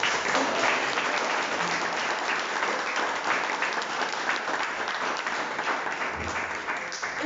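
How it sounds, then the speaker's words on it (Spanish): Sustained applause fills the room at the launch of the book "Sobre delitos y castigos" by Florencio Enrique Pardo Montenegro, a steady, dense clapping from a seated audience that holds even throughout and tapers slightly at the end. "Florencio Enrique Pardo Montenegro, para quien pido un fuerte aplauso."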